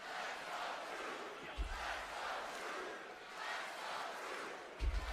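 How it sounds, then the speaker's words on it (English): Wrestling arena crowd in Green Bay roaring and cheering continuously during a SmackDown match, a steady broad wash of many voices with a couple of brief low thumps. "Crowd here in Green Bay trying to rally R-Truth inch by inch."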